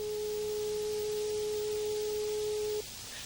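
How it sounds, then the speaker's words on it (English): Steady pure test tone from a workplace hearing-safety demonstration, holding at one constant pitch for nearly three seconds and then cutting off abruptly, with faint background hiss and no talk. "Tone number 4."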